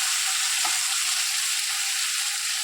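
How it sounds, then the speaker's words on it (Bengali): Chopped onions sizzle steadily in hot oil over caramelised sugar, a continuous close, even frying hiss with one brief soft knock early on and no voices. "তেলটা গরম হয়ে এলো এবং চিনিটা লাল হয়ে গেল, তখনই পেঁয়াজ কুচিগুলো এখানে এর ওপরে ছেড়ে দিলাম।"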